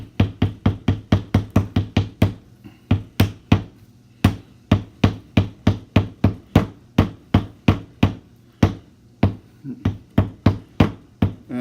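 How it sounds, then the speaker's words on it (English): A DI resin filter canister from a BRS RO/DI unit being tapped repeatedly to settle the resin, producing a long run of loud, close, evenly spaced knocks with one short pause partway through. "So I'm going to tap it again."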